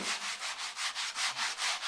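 Hand sanding on the dash of a 1953 bus: about ten rhythmic back-and-forth sandpaper strokes, a raspy, hissing scrape in an even cadence, close and fairly quiet, with no talking.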